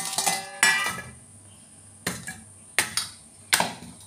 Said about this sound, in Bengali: এবার মাছের মধ্যে নুন হলুদ দিয়ে ভালো করে মেখে নেব।